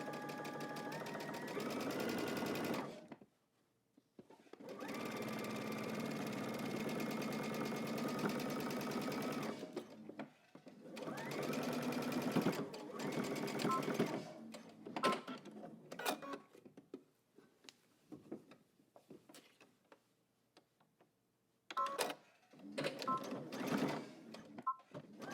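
A sewing machine stitches a dress seam in several long steady whirring runs separated by pauses, followed by shorter stop-start bursts of stitching and clicking, close and clear.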